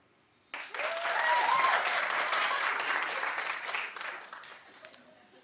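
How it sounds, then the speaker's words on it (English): A studio audience on a comedy talk show breaks into sudden, loud applause that swells quickly, holds steady for several seconds, then gradually thins out with a few scattered claps. "Clap if you care."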